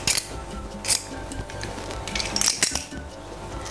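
Garlic cloves pressed in a metal garlic crusher in a Caribbean kitchen, giving a few sharp metallic clicks and squeaky crunching bursts at irregular intervals, close and fairly quiet without talk.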